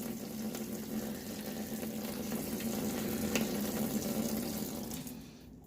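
Hands rub a bar of soap into a thick lather under water, making a continuous wet, crackling hiss with faint squelches that swells slightly toward the middle and then fades.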